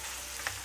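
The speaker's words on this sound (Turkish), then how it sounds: "Şöyle iyice bir karıştır." A tomato and pepper mixture seasoned with black pepper, salt and sugar is stirred in a pan, giving a brief, soft hissing scrape with one small clink.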